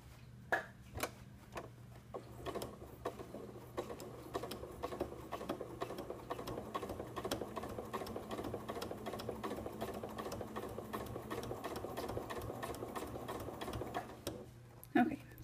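A sewing machine stitching a side zipper runs in a steady, rapid rhythmic whir of needle strokes for most of the stretch, near and even, with a few brief pauses and clunks at the start and end.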